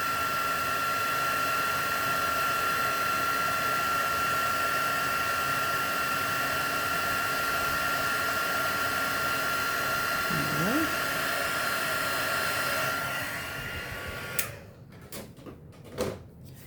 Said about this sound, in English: And we're just going to heat this up. I love watching the embossing powder melt.